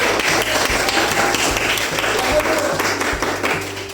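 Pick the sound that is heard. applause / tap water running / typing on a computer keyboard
applause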